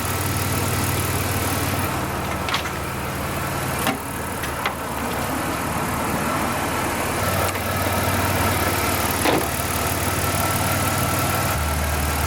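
A car engine idles steadily after repair work, a continuous low rumble close by with a few brief clicks and knocks over it and no talking.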